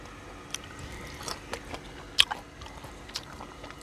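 A dog chewing food outdoors beside a Mekong riverbank, close wet bites and occasional sharp crunches at an uneven pace, with no talking.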